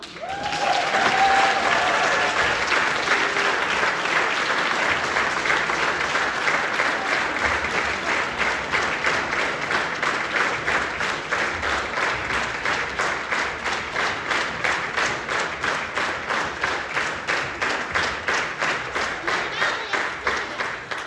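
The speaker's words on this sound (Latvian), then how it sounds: "Aplausi!" Audience at a choir's anniversary concert applauds at length, dense clapping that gradually settles into a unified rhythmic beat, loud and continuous, with a brief voice near the start.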